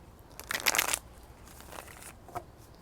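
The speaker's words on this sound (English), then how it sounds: "Let me shuffle up one more time." Tarot cards being shuffled by hand, a short crisp burst of riffling and sliding cards up close, followed by quieter scattered flicks and taps.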